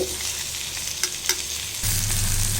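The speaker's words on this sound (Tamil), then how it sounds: "இப்போ தக்காளி நல்லா வதங்கிடுச்சு" Tomatoes for chutney sizzling and frying in a pan, a steady loud hiss with a few stirring scrapes, and a low hum that rises partway through as the cooking grows more intense.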